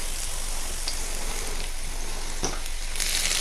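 Food simmering and frying in a pan, a steady, dense sizzle that holds evenly throughout with a couple of faint ticks and pops, no voices.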